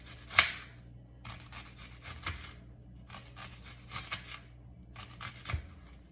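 A knife slices yellow onions into rings on a cutting board in a home kitchen. Four short bursts of crisp cutting and scraping come at a steady pace, close and fairly quiet, with no talking.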